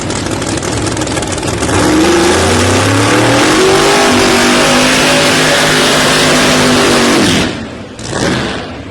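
Two Pro Nitrous or Pro Boost drag racing cars roar off the line together at a PDRA Drag Wars qualifying round, engines screaming louder as they accelerate away, then the noise cuts off abruptly near the end.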